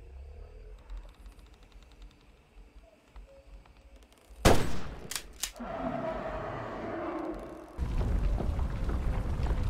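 A heavy hunting-rifle blast rings out in a Bigfoot-hunting video game, followed by a few quicker sharp cracks and rumbling decay, set against a quiet, hissy outdoor background.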